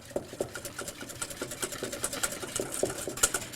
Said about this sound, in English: You want to whisk it up until you don't see any more lumps of cornstarch